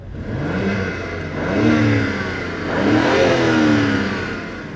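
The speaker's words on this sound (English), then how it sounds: "Well, I guess in neutral now. Yeah. One final rev." An Alpina car engine revved in neutral, two swelling rises in pitch and loudness over a steady mid-range engine note, close and without talk.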